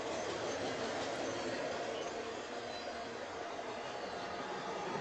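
A freight train rolls past with a string of boxcars and a rear DPU locomotive, giving a steady, broad rumble and wheel noise at moderate distance, continuous throughout.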